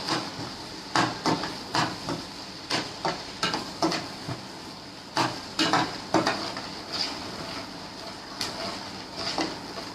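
Onions cooking in a pan, with a background sizzle broken by a regular run of sharp scraping stirs, repeated roughly every half second and fairly close, with no voices.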